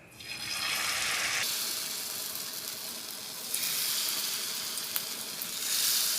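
Baby potatoes deep frying in hot oil as a fresh batch goes in, a loud steady sizzle that swells and churns over several seconds, with a few faint clinks near the end and no talking.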